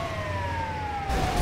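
An ambulance siren in the GTA 5 video game wails steadily in a single held tone, fairly faint and continuous, with a low engine rumble beneath it that swells near the end.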